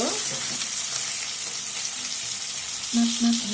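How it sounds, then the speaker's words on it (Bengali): Carp pieces frying in hot oil as they are turned over, a continuous close sizzle with a brief low hum near the end and no speech. "উল্টে পাল্টে মাছগুলো ভেজে নিব।"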